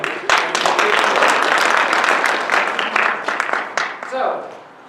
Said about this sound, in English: Tim, give him a round of applause.